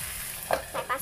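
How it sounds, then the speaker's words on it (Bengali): Radish and tengra fish curry sizzles in a pan, a steady close hiss with a couple of soft bubbling swells as the cooking settles under the lid, all within a brief second. "তো এটাকে আমি আবার ঢেকে রান্না করবো"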